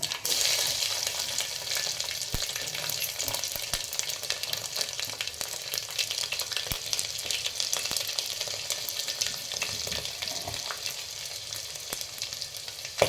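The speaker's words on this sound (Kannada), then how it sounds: "ಸಾಸಿವೆ ಚಟಪಟ ಅಂತ ಇದೆ ಈಗ ಜಜ್ಜಿಲ್ಲ ಅಂತ ಬೆಳ್ಳುಳ್ಳಿ ಹಾಕ್ತೀನಿ" Mustard seeds crackling and garlic frying in oil while making a radish and potato saaru, a dense continuous sizzle with scattered sharp pops throughout, close and steady.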